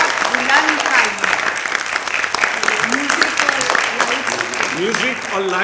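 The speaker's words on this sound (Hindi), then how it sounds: "बहुत बुलंद तालियां।" Audience applause at an Urdu stage play, a sustained wash of clapping from a seated crowd with voices talking and calling out over it throughout.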